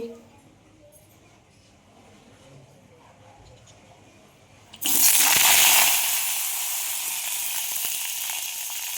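Green beans drop into hot oil in a wok. A quiet, near-silent stretch gives way to a sudden loud, crackling sizzle that stays strong and steady to the end, close by.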